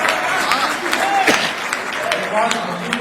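Audience at a Hindi poetry recital in Gwalior applauding, a sustained wash of clapping from a crowd, moderately loud, with a speaker's voice over it.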